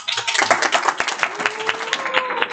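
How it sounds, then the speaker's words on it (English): Short burst of audience applause for a speaker opening a homelabbing talk, distinct individual claps from a modest crowd with faint background murmur and a low tonal hum underneath. "Well deserved applause, I know."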